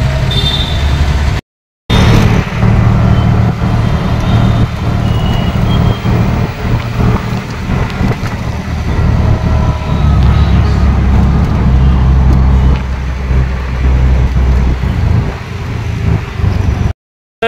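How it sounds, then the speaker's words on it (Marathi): Riding in an auto rickshaw through Mumbai traffic, with a loud, constant engine drone and road rumble, passing vehicles and occasional horns or beeps around the cab. "तर सध्या आपण रिक्षाने निघालो आहे"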